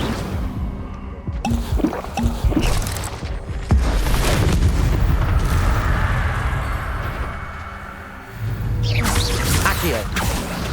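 The Incendio fire spell cast in the Hogwarts Legacy video game, bursts of whooshing flame and booming impacts with sustained roaring fire in between, loud and close, amid battle noise.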